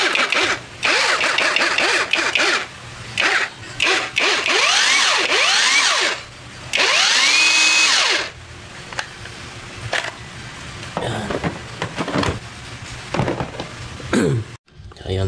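Keelat 4-in-1 portable power drill running: loud, close bursts of motor whir that climb and fall in pitch, cut by short pauses and a few clunks, with a voice faintly in the background.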